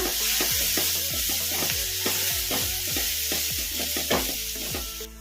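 A spicy masala bread toast mixture is stirred in a pan over a medium flame, with a spatula scraping in quick repeated strokes over a loud, steady sizzle close by.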